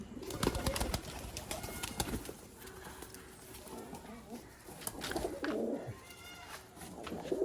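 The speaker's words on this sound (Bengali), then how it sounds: "এগুলো হচ্ছে বাইরের কবুতর" Outdoor pigeons coo in soft, low bursts near a person who speaks over them, with clattering and fluttering noises mixed in.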